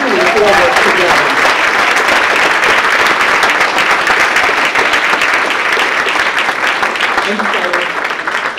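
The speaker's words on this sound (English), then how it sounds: "Let's give them another round of applause." An audience at a political gathering applauds, a dense, loud, sustained wash of clapping that holds steady for several seconds and fades slightly at the end.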